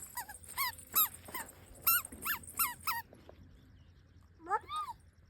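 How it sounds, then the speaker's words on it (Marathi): A puppy whimpers and whines close by in a burst of high, rising squeals, goes quiet, then gives one more whine near the end, with a faint low growl underneath. "जा आण बरं बुबीचं पिल्लू. पकड त्याला"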